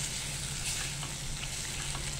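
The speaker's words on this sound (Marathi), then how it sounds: "आता हा टोमॅटो आता मऊ करून घ्यायचा आहे भाजीमध्ये, तेलामध्ये" Tomatoes and spices frying in oil in a vegetable curry for poori bhaji, a steady close sizzle that holds even throughout with no voices.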